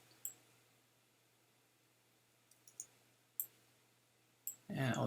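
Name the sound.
computer keyboard keys pressed, plus and minus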